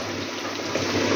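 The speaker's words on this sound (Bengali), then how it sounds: "এবারে হচ্ছে পরিমাণ মতো জল দিয়ে দেবো।" Water poured into a cabbage and potato curry makes a short, close, continuous rushing splash that holds steady for about a second.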